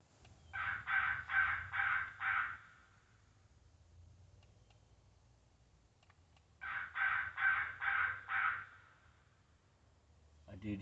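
An electronic crow caller set out for an evening crow hunt in Indiana plays two loud bursts of repeated caws, about five harsh calls in each, separated by several seconds of quiet outdoor background.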